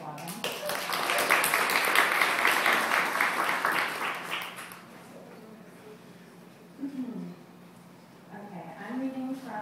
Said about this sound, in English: So I think we should applaud them.